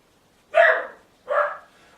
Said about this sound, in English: My son's dog is very yappy.